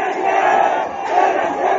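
A jubilant crowd of pilgrims cheers and shouts in a steady, dense roar, loud and close, with a brief dip near the middle before swelling again.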